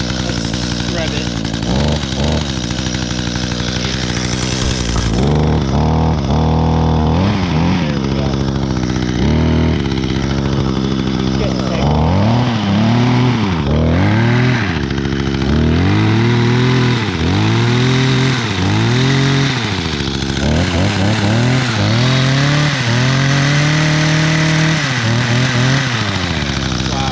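Small two-stroke garden power tool engine, among trimmers, hedge trimmer, chainsaw and blowers, idling loudly then revving repeatedly in rising and falling bursts, close to the microphone throughout.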